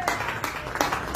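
A church congregation claps in a brief, dense burst. Many hands strike in uneven rhythm, fairly close and loud, with no voices heard over it.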